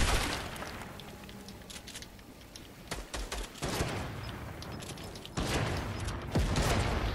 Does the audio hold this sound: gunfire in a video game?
yes